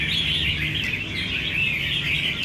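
A caged crested bulbul calls in a steady stream of bright, close chirps and trills, loud and continuous with no voices.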